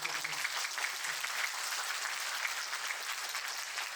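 Sustained applause from an audience at a graduation ceremony, honoring the parents seated at the back, steady and even throughout with a faint voice underneath.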